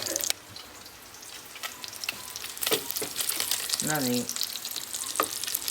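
Pork pieces frying in oil in a pan, a steady close sizzle and crackle with faint stirring, a brief voice spoken over it.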